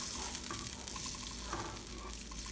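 Coconut milk boils in a pan with a faint, steady bubbling hiss and a few soft pops, quiet and unbroken over a short stretch.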